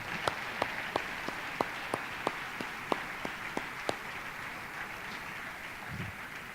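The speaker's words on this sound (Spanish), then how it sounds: "Dale un aplauso al Señor esta mañana." A church congregation applauds during a sermon, with steady crowd clapping and distinct close claps punctuating it at a regular beat for about four seconds before the applause thins and fades.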